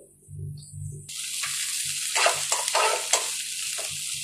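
Chopped onions fry in a pan with a steady, close sizzle and hiss, broken by intermittent scraping stirs, with no voices.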